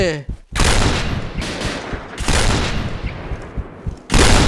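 Rapid bursts of video game gunfire ring out loud and close in dense clusters with short gaps, then a final heavy volley at the end, while someone shouts excitedly over the shooting.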